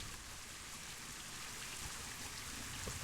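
Steady rain falls in Planet Zoo, a soft, even hiss of drops on surfaces holding constant across the whole stretch, fairly quiet with no voices.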